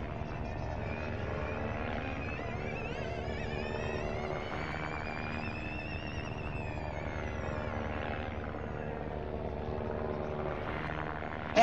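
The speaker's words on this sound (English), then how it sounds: "The helicopter is hovering right over in his VW IDR Pikes Peak." A helicopter hovering above the Pikes Peak race course during the Volkswagen I.D. R run: a steady, droning rotor and engine noise with a slowly shifting whine, continuous and moderately loud throughout.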